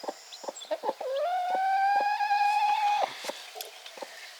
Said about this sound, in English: You are starting to be a devil chicken.